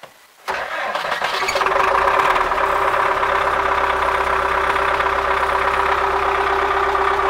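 MTZ tractor diesel engine in frost cranks after a brief quiet moment, catches and settles into a steady, loud, rough idle that runs unbroken to the end.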